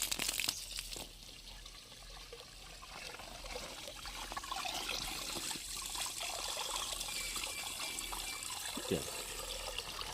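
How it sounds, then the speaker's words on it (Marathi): Water poured into a 20 litre folding sprayer pump, a steady trickling and splashing that runs the whole time, fairly faint and close, with no talking. "हा पंप आहे यात आता पाणी भरू"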